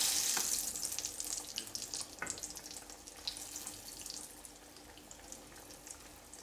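Potato pieces fry in very hot oil, crackling and sizzling nearby, with a loud burst of spitting at the start that settles into a softer, steady bubbling pop.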